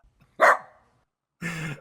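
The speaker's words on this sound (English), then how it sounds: "we could get a little dog bark sound" A small dog barks twice, a sharp clear bark followed after a pause by a longer, throatier one, close and alone against silence.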